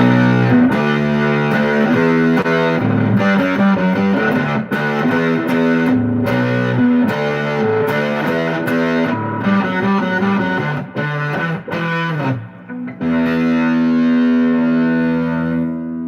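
Loud, dense music played with heavy distortion, thick sustained buzzing tones with rhythmic changes throughout, shifting to a steadier held section near the end, with no talking.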